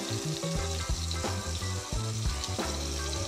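A beef burger sizzles steadily in a cast iron pan, with continuous loud frying crackle and a low rhythmic pulsing underneath, no voices.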